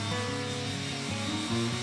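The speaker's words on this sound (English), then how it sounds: "We worked our way from 150 to 220 grit" Sandpaper rubbing across a walnut dining table at 150 to 220 grit gives a continuous close rasp with slight rhythmic strokes over a brief stretch, heard alone.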